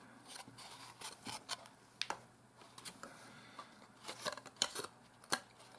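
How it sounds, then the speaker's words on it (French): A glue tape roller runs along paper for a mini envelope basket, producing faint, close clicks and short scratchy rolling strokes in an otherwise quiet room. "Nous allons ensuite utiliser notre colle, mon rouleur fuse."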